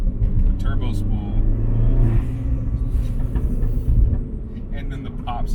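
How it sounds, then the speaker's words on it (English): Turbocharged R56 Mini Cooper S with a CAE shifter, engine rumbling loudly and close with turbo spool and blow-off valve whooshes over a steady low drone, a voice talking over it. "Such a good mixture of the blow-off valve, the turbo spool"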